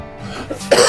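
A single short cough near the end, close and loud, after a moment of quiet breathing.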